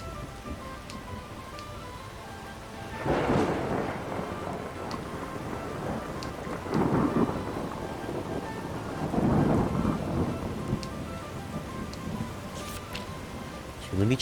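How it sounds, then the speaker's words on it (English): Rolling thunder from a thunderstorm with steady rain in Skyrim VR, using a realistic thunder mod; several loud, booming rumbles swell over a constant patter of rain, with a final crack at the end. "The thunder is really loud in this."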